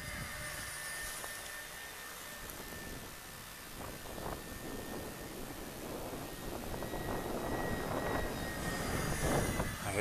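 A Walkera Genius CP brushless RC helicopter flies outdoors in gusty wind, its steady high motor whine sitting over rumbling wind noise and swelling louder toward the end.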